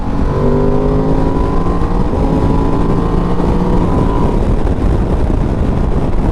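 A 2023 Ducati DesertX motorcycle accelerating toward highway speed, its engine loud and close with a steadily rising tone, wind and road noise underneath.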